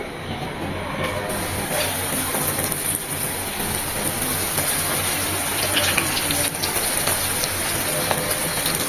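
Chicken drumsticks frying in hot soybean oil in a pan over high heat give a steady, dense crackling sizzle that runs without pause, close and fairly loud, with no voices.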